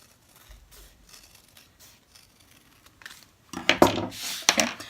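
Scissors snip around embroidery stitches and stabilizer, a few faint clicks early on, then a cluster of louder, crisp cutting snips near the end, close by with no talking.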